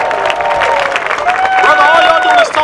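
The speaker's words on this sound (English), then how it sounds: "Y'all should clap for that." Rally crowd applauding and cheering with sustained clapping, loud and close, while voices talk over it throughout.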